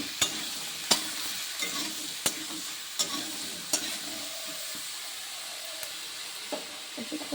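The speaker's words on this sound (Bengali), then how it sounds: "একটু ভেজে নিচ্ছি।" Steady sizzling of beans, potato and rohu fish curry frying in a pan, punctuated every second or so by sharp clicks of a utensil stirring against the pan, close and moderately loud.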